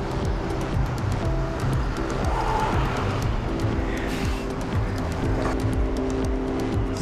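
Cars pass in steady traffic while a rider pedals a Tern Verge S8i folding bike, with a constant engine and tire rumble and wind noise throughout and no talk.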